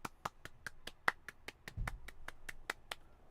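About a dozen sharp hand claps in a steady, quick rhythm, fairly close and alone, with a brief low thump partway through.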